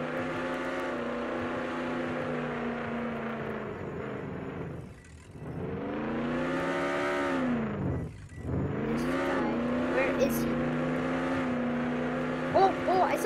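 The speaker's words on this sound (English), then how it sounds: "Intense car chase activated." Engine drone from a car chase in the Roblox game Jailbreak: a loud, continuous motor whine that revs up and down in pitch, easing off briefly twice before surging again, with faint high chirps near the end.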